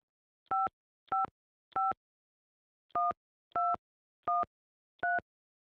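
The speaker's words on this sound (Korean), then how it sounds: "제가 전화해 볼게요." Seven short electronic touch-tone beeps from a telephone keypad as a number is dialed, clean and close in an otherwise silent room, spaced unevenly with a longer pause after the first three.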